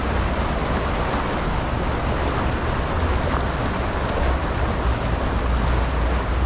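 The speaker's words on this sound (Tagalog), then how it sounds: "Grabe, ang lakas na agos din eh." A strong river current rushes past in a loud, steady, broadband roar with continuous low rumble, close and unbroken throughout, with no voices.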